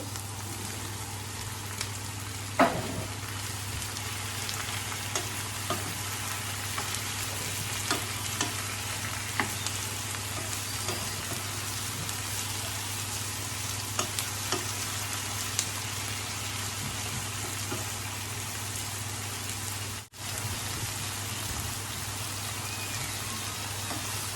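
Tomato frying in a pan for sweet chilli sauce, a constant close hiss and crackle with scattered stirring taps and a brief dip near the end, no one talking.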